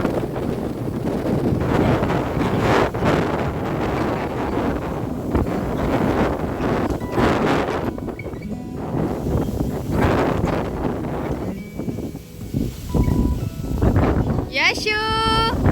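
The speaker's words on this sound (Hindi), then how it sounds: "ठंडी ठंडी हवा चल रही थी बहुत ज़ोर से" Strong, gusty wind roars and buffets steadily throughout, loud and close, with brief faint sounds near the end.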